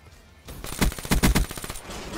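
Rapid player gunfire in Black Ops 3, a loud cluster of close automatic shots with a few heavier bursts in the middle, heard alone without talk.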